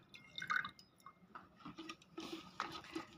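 Water drips and trickles out of a toy car in a quiet series of small, irregular splashes and patters, faint and close, with no one talking.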